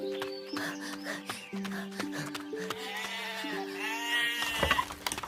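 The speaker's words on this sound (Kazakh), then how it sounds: "Ей, Мұқан, қорадағы қойларды өріске айдаңдар." Sheep bleat repeatedly over steady background music in an animated cartoon, with several wavering calls overlapping toward the end, fairly close.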